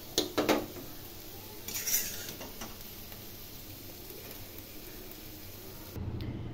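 A spoon scrapes and clinks against a metal pot as cooked red amaranth greens are moved into another vessel, a few sharp clatters early on, then quieter scraping over a faint steady hiss.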